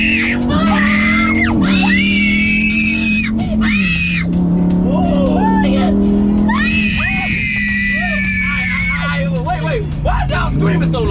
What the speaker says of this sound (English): Screaming so loud.